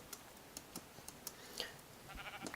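Faint sheep bleats in a block-building video game, soft and brief amid scattered clicks and keyboard-like tapping, quiet overall with no talking.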